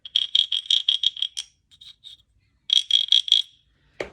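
A rapid series of rasping wooden croaks repeats in two bursts, with a few softer scattered clicks between, ending in a short knock.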